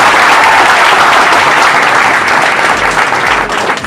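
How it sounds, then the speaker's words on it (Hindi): Loud, dense audience applause for a mathematics teacher, sustained clapping close by that eases slightly toward the end. "सर के लिए एक बार जोरदार ताली हो जाए।"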